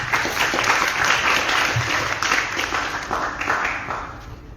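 An audience at the Yowana Niti Sarira III seminar, THD Bali 2020, applauds with steady, full clapping that holds for several seconds before easing slightly.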